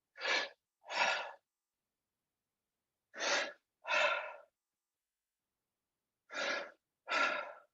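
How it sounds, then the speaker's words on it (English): Loud human breathing recorded up close, three paired in-and-out breaths separated by silent pauses, each breath a soft airy rush with no talking. "I was breathing just loud as I normally breathe"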